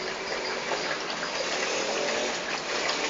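Water gushes from an upside-down plastic bottle in a water tornado experiment, a continuous, even, hissing rush that stays alone and close throughout.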